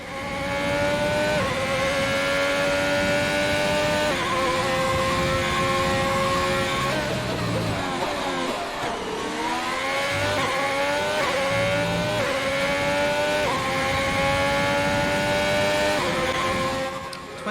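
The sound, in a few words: Ferrari F1 car engine racing in F1 2020 video game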